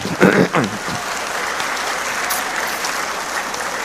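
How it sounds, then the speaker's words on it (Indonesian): Audience applause at a speech to an Indonesian organisation, a dense steady wash of clapping filling the room throughout, with a brief voice near the start. "boleh tepuk tangan buat LDI ini"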